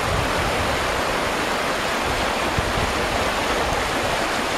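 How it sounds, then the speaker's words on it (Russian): Small step-like rapids near the mouth of the Vizla river give a steady, loud rush of flowing water. The close, continuous roar holds throughout with no voices. "Но на водопад это не похоже, это скорее порожек"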